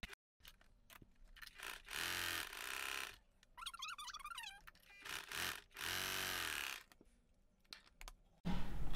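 Sewing machine stitching a frill for a baby frock, heard as several short, close bursts of rapid mechanical whirring with quiet gaps between runs.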